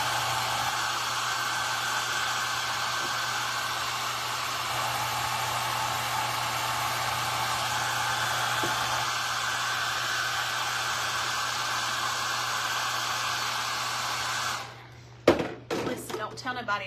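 A hair dryer blows steadily at close range for about fourteen seconds, drying paint on a painted wooden sign, then switches off, leaving a few brief handling clunks.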